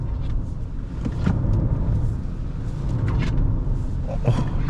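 A NETA X 480 Smart electric car driving at around 60 km/h in sport mode, a steady loud rumble of road and wind noise inside the cabin with faint knocks over it.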